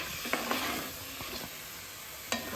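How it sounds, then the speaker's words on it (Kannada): Vegetables for a traditional-style veg Thai curry frying in a pan over medium flame, a soft steady sizzle with a few light clicks of a stirring spoon, close but fairly quiet. "ಒಂದು ಸ್ವಲ್ಪ ಫ್ರೈ ಮಾಡೋಣ."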